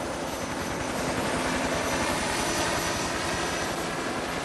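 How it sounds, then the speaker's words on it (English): Helicopter hovering nearby during a jungle casualty pickup, with a loud continuous rotor thump and engine whine holding steady throughout. "The helicopter will then come in, hover, they'll take the casualty down and put them into the chopper."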